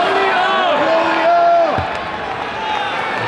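Arena crowd at the 2016 US Sumo Open men's middleweight division, a dense, loud roar of cheering and whoops with an announcer's voice carrying over it.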